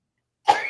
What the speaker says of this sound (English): She got the COVID cough.